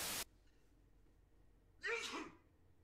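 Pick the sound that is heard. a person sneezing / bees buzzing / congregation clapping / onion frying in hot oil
a person sneezing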